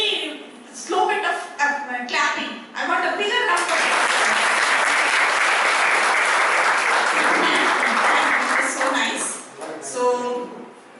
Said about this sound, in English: I want a bigger round of applause